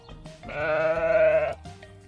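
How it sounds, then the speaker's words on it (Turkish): A single sheep gives one drawn-out, wavering bleat, clear and close, with no other sound around it. "Doğru cevap koyun bildin."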